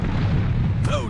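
A cannon fires in the airship combat game Air Buccaneers, a short dense boom with a rumbling low end, followed by a brief whistling tail near the end.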